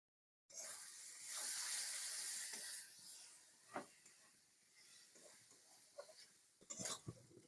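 Potatoes fry with spices and turmeric in a pan, giving a soft, steady sizzling hiss that is louder at first, with a few faint clinks and scrapes.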